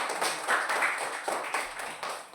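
Children in a classroom clap their hands together in a short burst of quick, light claps, fairly near and alone without talk.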